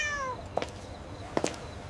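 A cat meows on a cobblestone street in Athens at night, two short distinct meows about a second apart, moderately close over a low ambient hum, with no talking.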